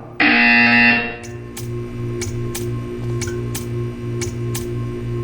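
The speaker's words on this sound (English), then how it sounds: "You will hear a buzzer." A buzzer in the video game Portal 2 gives a loud, steady electronic blare for about a second, then stops. A faint repeating tick follows over a low, pulsing hum.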